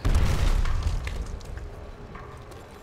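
A grenade explodes in Call of Duty: World at War zombies mode, a heavy low boom at the start that rumbles and fades out over a couple of seconds.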